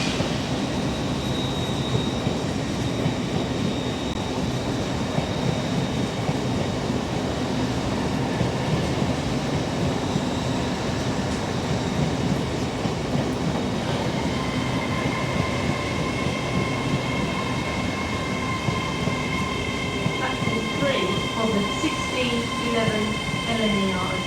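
Passenger train on a cross-country line passing close by under an autumn sky, a steady loud rumble of wheels and carriages with rising squeals and metallic ringing tones toward the end, continuous throughout.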